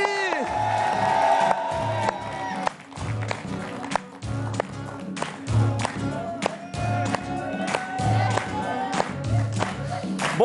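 Studio audience on the talk show "C'est à nous" applauds and cheers as a guest is welcomed. Scattered sharp claps and whoops ring out over a thumping music beat and a host's voice throughout.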